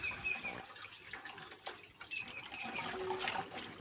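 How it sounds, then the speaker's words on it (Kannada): Water poured into a plastic bucket of black pepper, a soft, thin trickling and splashing that runs continuously at low level, with no voices. "ಕಾಳುಮೆಣಸು ಮುಳುಗುವಷ್ಟು ನೀರು ಹಾಕಬೇಕಾಗುತ್ತೆ"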